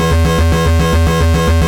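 A buzzy, metallic pulse-wave synth tone through a modulated delay, pulsing in a steady rhythm, roughly four to five pulses per second, with echoing repeats, loud and alone.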